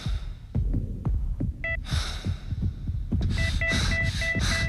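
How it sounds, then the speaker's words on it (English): A heartbeat sound effect in a TV commercial thumps in a steady double-beat rhythm, low and close, while bright tonal stings and bursts of noise cut in above it; no one speaks. "Now, control your heartbeat."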